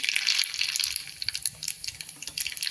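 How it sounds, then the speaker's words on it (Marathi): Mustard seeds crackle and pop in hot oil for a Marathi mint chutney tempering, a dense run of bright sputtering snaps close by and fairly steady, with no talking. "आपल्या मोहरी वाजायला लागल्यात आपलं तेल तापलेलं आहे"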